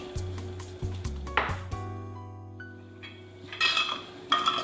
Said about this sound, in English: I'll have to remove the lid first.